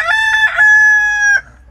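A rooster among backyard hens crows once, loud and close, in a single drawn-out cock-a-doodle-doo lasting over a second, then stops with no talking around it.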